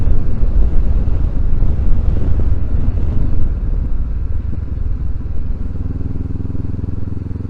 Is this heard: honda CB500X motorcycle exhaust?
yes